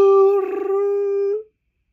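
A human voice imitates the Jurassic Park T-Rex roar, giving a single sustained, tonal howling call about one and a half seconds long that wavers in the middle and cuts off cleanly, loud and close, followed by silence.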